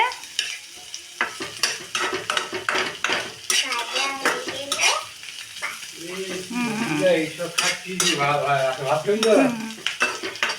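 Onions fry in a pan while a metal spatula stirs and scrapes, giving frequent sharp clinks and clatters over a soft sizzle. The sound stays close and busy throughout.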